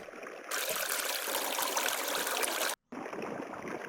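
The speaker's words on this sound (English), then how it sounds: "And a final one here, just a waterfall sample" Rushing waterfall noise, a dense steady roar of falling water that starts abruptly, cuts out briefly, then resumes.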